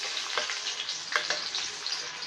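Onions frying in hot oil give a steady, fairly close sizzle with soft crackles and a few brighter pops, all on their own.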